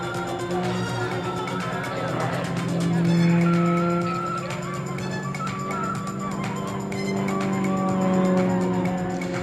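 An Extra 330LX aerobatic plane of the Royal Jordanian Falcons flies a display at RIAT 2024, climbing and torque rolling. Its propeller engine drones steadily at a distance, swelling twice as the pitch shifts.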